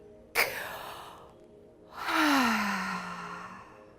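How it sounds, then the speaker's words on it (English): Two deep breaths during a guided breathing exercise: a sharp inhale near the start, then a long, audible, sighing exhale lasting about two seconds, close and alone. "Big breath in."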